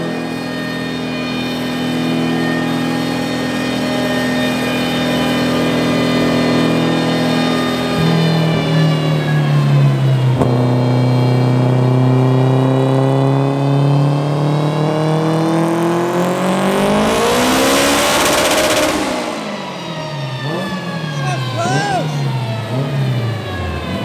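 A Honda EG6 with a K20T engine on a dynamometer, run on nitrous, revs hard and loud up through sweeping gear pulls before dropping to a rough, bouncing idle with voices and shouting over the engine noise.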